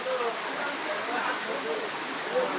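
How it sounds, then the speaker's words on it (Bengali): Stormy wind and rain rush in a steady broadband roar heard from inside a room, dense and unbroken with no distinct gusts standing out. "দেখেন যে কি পরিমাণ ঝড় হাওয়া বয়ে যাচ্ছে"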